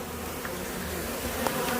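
A large swarm of killer bees drones in a dense, continuous buzz that stays close and steady throughout, with no voices over it.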